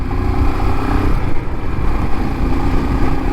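A Scram 440 motorcycle engine on a test ride, heard as a loud, close, continuous throbbing drone that holds fairly steady for a few seconds.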